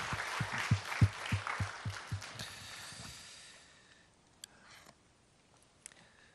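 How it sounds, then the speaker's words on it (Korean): A congregation gives the church choir a round of applause, a burst of hand claps over the first three seconds that quickly thins out and fades, leaving a quiet room with a few faint knocks. "우리 다시 한번 찬양대를 위해서 큰 박수로 격려하겠습니다."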